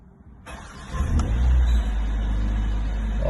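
A Mercedes-AMG A45's four-cylinder engine fires up and revs sharply from quiet, the burst swelling to a loud peak before settling into a steady, rumbling idle, heard close with no talking.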